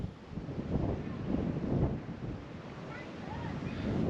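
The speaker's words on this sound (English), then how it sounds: "just blowing an absolute gale." Strong gale wind buffets the microphone on an exposed coast, a rough, continuous rumbling roar that swells and eases in gusts.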